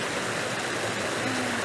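A river flowing steadily in a city park setting, a dense, broad rushing hiss of water that stays constant and fairly loud throughout, with no voices.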